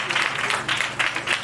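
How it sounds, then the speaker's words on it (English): An audience applauds a choir as it leaves the stage at a live event. The clapping is a continuous, moderately close patter that swells and eases in waves. "Keep clapping for them as they are going to their seats."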